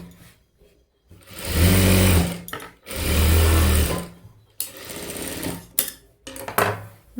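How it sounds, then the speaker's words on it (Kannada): A domestic sewing machine stitches along the lining edge of a blouse sleeve, running in two long loud bursts and then several shorter start-stop runs, close and alone with no talk. "ಲಾಸ್ಟ್ ಎಡ್ಜಲ್ಲಿ ಲೈನಿಂಗ್ ಮೇಲೇ ಒಂದು ಸ್ಟಿಚ್ ಹಾಕ್ಕೊಂಡು ಬನ್ನಿ."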